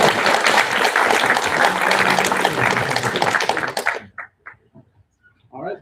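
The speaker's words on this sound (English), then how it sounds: "let's just give them a round of applause" An audience at a neural engineering forum claps in a loud dense burst that cuts off after about four seconds, leaving a few scattered faint claps and brief sounds in near silence.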